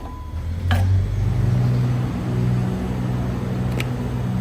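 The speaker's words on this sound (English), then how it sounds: "You can hear the noise of the tractors in the background," Tractor engines running at a farm while a shed is mucked out, a steady low mechanical drone continuing throughout in the background, with a couple of brief sharp knocks and no talk.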